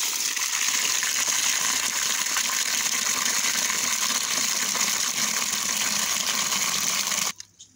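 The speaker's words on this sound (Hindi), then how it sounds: "इस वंडे में पानी डालेंगे" Water gushes steadily into a cattle feed trough, a continuous close splashing pour that stops abruptly near the end.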